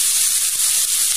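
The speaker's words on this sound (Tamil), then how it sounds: "ஆயில் ஹீட் ஆன உடனே கொஞ்சம் வெங்காயமும் கருவேப்பிலையும் ஆட் பண்ணிக்கலாம்" Small onions and curry leaves frying in hot oil for an egg paniyaram gravy, giving a steady, loud, close hiss that runs unbroken through the short moment.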